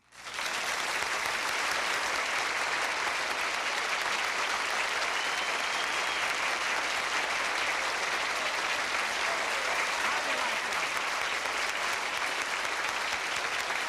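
Sustained, loud audience applause greets comedian Jack Benny as he walks on as a guest on the Lawrence Welk television show, a dense steady clapping from a large studio crowd with no one speaking through it.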